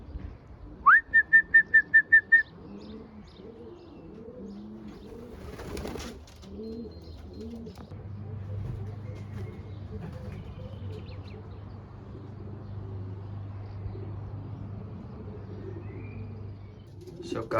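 Racing pigeons at a mass release of about 28,000 birds in Duffel, with steady cooing throughout, a quick run of bright whistled pulses near the start, a short burst like flapping wings and a low rumble underneath.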